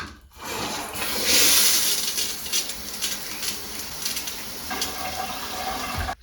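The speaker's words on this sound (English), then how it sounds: "So let me turn on the water and see how it looks." Water runs steadily from a newly installed shower head, a loud continuous hiss and spatter in a bathroom that starts abruptly and cuts off at the end.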